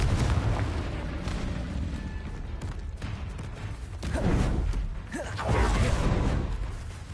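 Confringo blasting curses erupt repeatedly in Hogwarts Legacy combat: loud, rumbling explosive bursts swell at intervals over a dense, continuous bed of battle noise.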